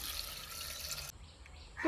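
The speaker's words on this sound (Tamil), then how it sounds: "இதில் தண்ணி சேர்த்துருவோம்" Water is poured into a cooking pot of bottle gourd soup spiced with cinnamon, cloves and turmeric, a brief close splashing pour lasting about a second before it quiets.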